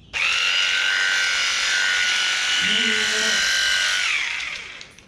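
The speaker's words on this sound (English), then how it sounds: "let's go ahead and plug in these clippers and see how they're running" Electric sheep shearing clippers fitted with comb and cutter heads buzz at a steady, loud, high-pitched whine for about five seconds before winding down. A low murmur briefly sounds underneath.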